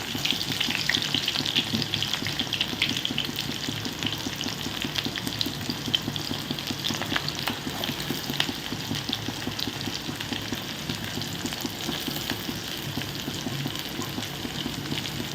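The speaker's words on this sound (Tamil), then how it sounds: "ஒரு பெரிய வெங்காயத்தை பொட்டீஸாக நறுக்கி வச்சுருவேன் அதை இதில் போடுறோம்" Steady, dense sizzling and crackling of chopped onion frying in a pan, continuous and fairly close throughout.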